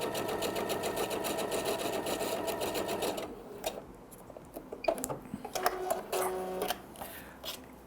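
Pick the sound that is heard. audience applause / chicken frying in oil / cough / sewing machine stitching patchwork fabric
sewing machine stitching patchwork fabric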